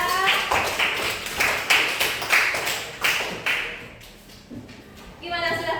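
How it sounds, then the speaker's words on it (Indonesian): A class claps in a steady rhythm of sharp, bright hand claps, loud and close, tapering off near the end. "tepuk tangan dulu ya"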